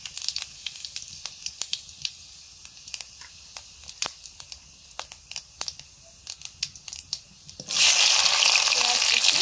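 Dried red chillies and whole cumin hit hot mustard oil, giving sharp scattered crackles and pops that burst into a loud, steady sizzle near the end.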